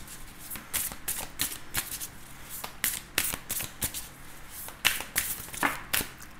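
Tarot cards shuffled by hand, with a rapid series of crisp riffling bursts and soft flicks repeating close up, and no talk.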